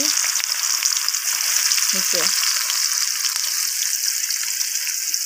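Chopped onion dropped into hot oil with whole cumin seeds on a clay stove, a loud steady sizzle with a few stirring scrapes near the start.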